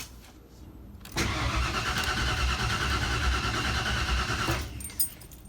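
A 1992 Ford F-150 engine cranks after a new fuel pump install, a steady loud rhythmic starter churn running about three and a half seconds before cutting off, with no catch or firing.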